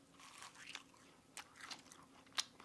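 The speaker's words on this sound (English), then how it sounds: "I'm going to take one of these, and I'm going to bite it up here by the microphone" Close-up crunching bites into a crisp beer-battered fried onion ring, a few sharp crackling bursts with short pauses between them, the last one loudest.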